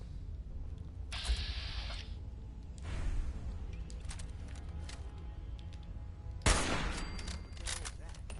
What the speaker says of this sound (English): Presumably you can tell it is a gunshot,